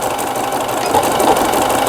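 A Singer 7640 electronic household sewing machine, a 110-volt import model set to medium speed, running a continuous loud stitching drone with steady mechanical rattle, close up and without talk.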